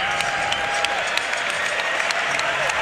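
A basketball arena crowd at the 2019 NBA All-Star Game roars and applauds as Dirk Nowitzki checks in, a dense sustained cheer with a faint tone running under it.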